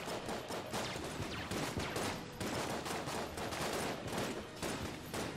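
Gunfire in the video game Enter the Gungeon crackles in a rapid, dense stream of shots, fairly quiet and continuous amid busy game sounds.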